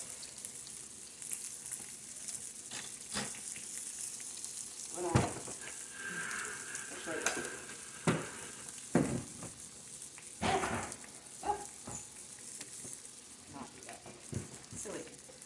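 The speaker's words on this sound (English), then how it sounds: "we're gonna cook some vegetables on it" Vegetables sizzle and crackle on a Pampered Chef Deluxe Grill and Griddle, a soft, steady frying hiss broken by scattered pops and stirring clacks, with people talking nearby.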